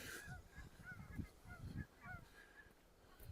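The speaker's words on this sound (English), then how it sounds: "Canada geese." Canada geese honking repeatedly in the distance by a lake, a loose chorus of calls rising and falling, faint against quiet snowy outdoor ambience.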